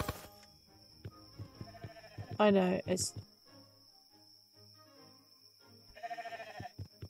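Sheep bleating in the video game Swords 'n' Magic and Stuff: two loud, wavering bleats, one in the middle and one near the end, between soft clicks while a voice speaks briefly.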